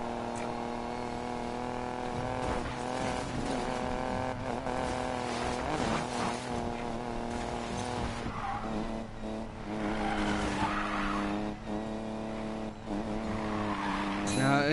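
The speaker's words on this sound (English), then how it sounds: "as you can hear, I am feathering the throttle just to try and keep the car under control" Car drifting in the Need for Speed Payback racing game, the throttle feathered to hold the slide: a continuous loud engine drone with shifting pitch and tire squeal throughout, no talking.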